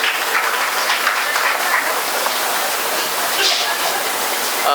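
Dense audience applause at a college orientation program welcoming an alumnus speaker to the stage, a steady wash of clapping that holds evenly throughout without any talk.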